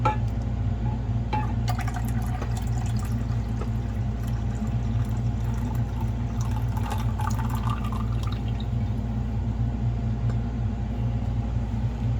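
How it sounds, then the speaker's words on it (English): Rinse liquid is poured off during gold refining, a steady splashing pour over a constant low rumble from a heater, with no speech. "Pour off this rinse"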